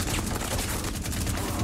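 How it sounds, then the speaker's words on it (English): Gunfire in Rainbow Six Siege, a dense continuous volley of rapid shots, loud and close throughout the short burst. "I just shot her 7 times!"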